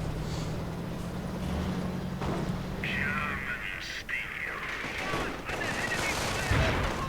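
Rattling gunfire and small-arms bursts from a real-time strategy battle crackle continuously under a low drone, with scattered shots and a whistling effect midway.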